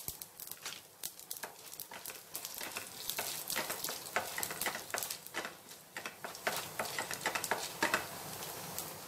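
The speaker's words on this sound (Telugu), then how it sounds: "ఇవి కొద్దిసేపు మనము ఫ్రై చేసేసుకుందాము" Chana dal and broken dried red chillies frying in oil for a ponnaganti leaf tempering, a soft steady sizzle broken by many quick crackles and spatula taps.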